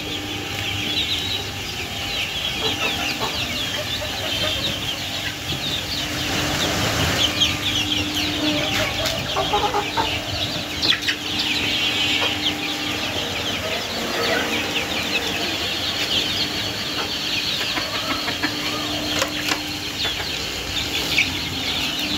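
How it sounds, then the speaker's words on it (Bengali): Native chicken chicks cheep and cluck in a coop, a steady chorus of overlapping chirps with occasional wing flutters, heard close and continuous throughout. "দেশি মুরগির বাচ্চা"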